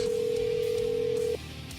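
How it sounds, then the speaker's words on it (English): A telephone gives a single steady electronic ring tone that holds for over a second and then cuts off abruptly, leaving quiet background room noise. "You hearing the phone ringing?"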